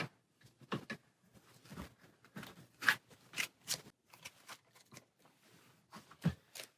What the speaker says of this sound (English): reveal it and shuffle the encounter deck